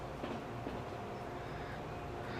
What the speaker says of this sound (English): I enjoy riding on the trains.